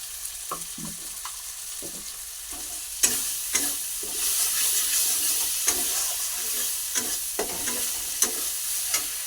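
Ground coriander and cumin go into a hot frying pan and are stirred, giving a steady sizzle with scattered sharp scrapes and clinks of the spoon against the pan, close and moderately loud, with no talking.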